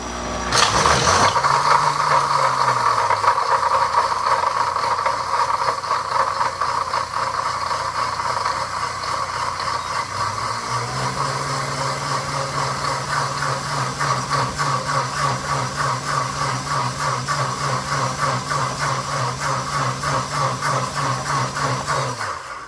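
A blender whirs steadily while frothing a custom coffee blend on a low setting, a loud, continuous motor drone that dips briefly midway and then picks back up, with no talking over it.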